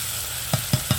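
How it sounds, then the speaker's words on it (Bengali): Spice paste frying in a pan with a little water, a steady sizzle broken by three or four soft stirring scrapes, close and fairly quiet. "জল দিয়ে আরেকটু নাড়াচাড়া করে মশলাটা একটু ভাজা হতে দেবে"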